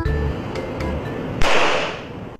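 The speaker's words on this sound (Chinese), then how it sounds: "当气球遇到橙子皮的汁水时，爆炸就会发生" A balloon bursts when orange peel juice is squeezed onto it: one sharp, loud pop partway through, with a brief noisy tail, after a low steady hum.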